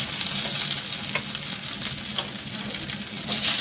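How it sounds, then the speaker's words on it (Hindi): Colocasia leaf rolls shallow frying in oil in a pan make a continuous close sizzle with scattered pops and light stirring sounds. "हम अरबी के डो को इसमें हम तलेंगे।"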